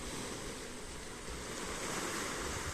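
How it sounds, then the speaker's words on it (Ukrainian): Ocean waves crash against a rocky cliff in the dark, making a continuous, low roaring rumble of surf that swells slightly toward the end, heard alone without speech. "до тої скелі б'ється хвиля, отакий дає такий гул, такий звук"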